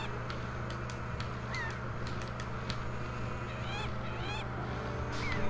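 Seagulls cry in Wind Waker HD, with short rising squawks coming several times over a steady ocean and wind bed, moderately close but sitting low in the mix.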